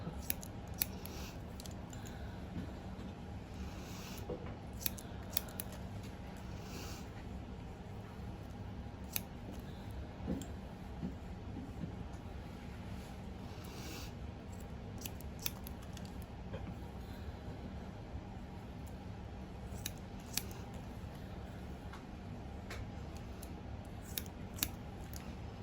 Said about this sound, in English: Take it from the shortest point, pull it 90 degrees out, and cut it at that 90-degree angle.